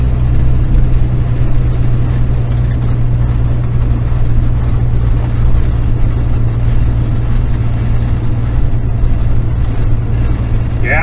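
Semi truck engine pulling hard uphill in 10th gear on Wyoming Highway 14 in the Bighorn Mountains, a steady, loud low drone and whir heard from inside the cab with no talk.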